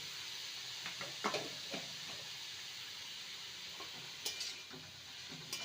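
Fenugreek leaves and potatoes frying in a pan make a soft, steady sizzle, broken by several faint scrapes and clinks of stirring.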